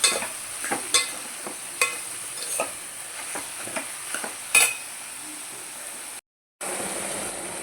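Ridge gourd and egg curry frying in a pan with salt, heard as a low sizzle broken by repeated sharp spoon taps and scrapes against the pan. A brief silent gap comes near the end.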